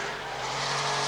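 A 1990s Porsche accelerating flat out from a standstill for a 0-60 run, its engine roaring steadily and loudly with tire squeal mixed in, the strained note rising slightly over the short burst.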